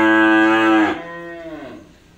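A newly arrived F2 crossbred cow at a cattle lot gives one loud, close, drawn-out moo that drops in pitch and trails off, with no talking.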